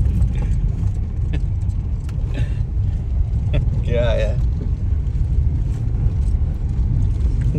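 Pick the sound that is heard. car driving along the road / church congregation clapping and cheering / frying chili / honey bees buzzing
car driving along the road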